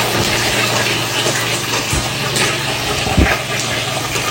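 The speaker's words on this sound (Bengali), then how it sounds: "আর এই যে তেল আর ঘি গরম হয়ে গেছে, মুরগিটা ম্যারিনেট করে রাখছিলাম, মুরগিটা এখন দিয়ে দিচ্ছি।" Marinated chicken goes into hot oil and ghee, setting off a loud, steady close-up sizzle and bubbling with a few sharp pops and spatters.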